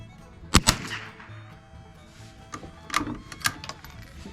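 Sharp reports from a budget .22 rifle build fire at a range, two quick close shots near the start and a cluster of three or four more later, with quiet gaps between.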